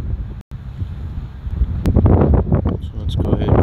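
Strong gusting wind buffets the microphone outdoors while a DJI Mavic Mini drone flies in heavy gusts, a steady low roar swelling louder in the second half, with a person talking over it.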